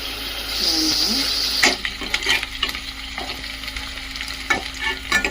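Dried prawns frying in a pan until golden brown give a steady hiss of oil, broken by repeated scraping and tapping strokes of a stirring spoon.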